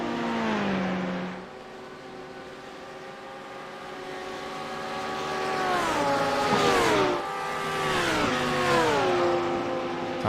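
GT3 race cars roar down the back straight at Road Atlanta in a racing game, loud engine notes climbing steadily through the gears with sharp shift drops, a second car close behind adding overlapping revving.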